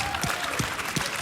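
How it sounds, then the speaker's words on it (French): An audience claps for a singing troupe, a dense, even burst of applause from a nearby crowd that carries through the whole moment without a break. "On peut les applaudir encore une fois, je pense."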